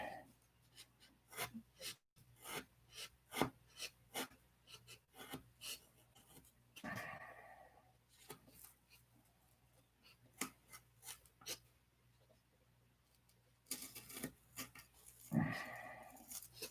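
Sandpaper rasps on a new wooden model plane part, rounding it in repeated back-and-forth strokes up close, with short pauses between runs and some handling noise.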